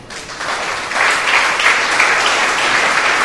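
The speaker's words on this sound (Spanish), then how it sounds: "Denle un aplauso al Dios del cielo" A church congregation bursts into applause during a sermon, clapping building quickly from the start into a dense, loud, sustained roar of many hands.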